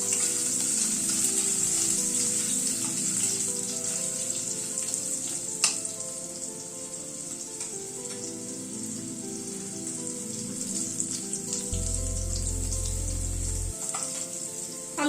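Boiled potatoes hit hot oil in a pan for a vegetarian paneer and vegetable dish, giving a continuous close sizzle with occasional sharp crackles and utensil clicks.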